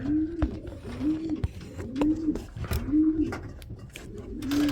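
Pigeons coo repeatedly inside a racing pigeon loft, a close series of soft rolling calls about once a second with light fluttering and shuffling around them.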